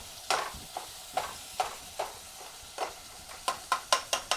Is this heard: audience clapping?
no